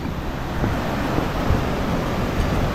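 Wind and mist blow around the flooded Khlong Lan Waterfall in a loud, steady roar, with gusty bumps buffeting the microphone and no speech.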